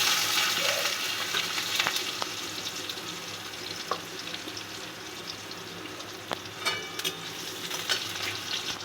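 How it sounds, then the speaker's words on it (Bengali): Potatoes fry in a pan with dry red chilli, bay leaf, radhuni and panch phoron, giving a steady close sizzle broken by a few sharp clicks of stirring. "আলুগুলো লাল লাল করে ভাজা হয়ে গেছে"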